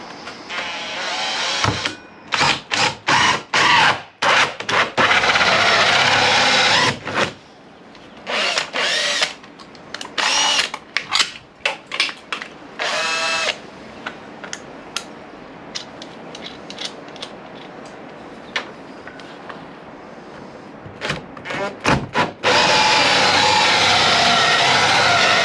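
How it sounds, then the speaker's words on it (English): A loud power drill drilling through wood whirs in repeated short bursts, stopping and starting, then runs continuously near the end. "We're just gonna have to drill through and hope for the best."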